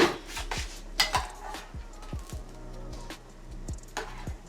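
Utensil stirring Alfredo scallops in a hot air fryer oven dish, giving repeated close clinks and scrapes against the dish in an irregular rhythm, fairly loud and without talk.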